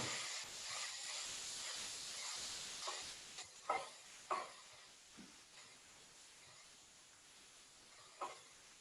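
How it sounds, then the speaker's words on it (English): Water poured into a hot pan of kale, giving a steady steaming hiss and sizzle throughout, with a few short louder bursts of stirring and clattering near the middle and end. "I'm going to add a little bit of water, and that's just to get the steam going."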